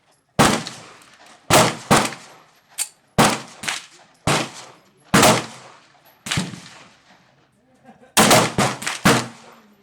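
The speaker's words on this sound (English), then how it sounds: "we'll shoot another second shot string" A string of pistol shots from a Colt 1911 or Glock 30SF, about a dozen loud sharp reports spaced roughly half a second to a second apart, with a rapid cluster of four near the end.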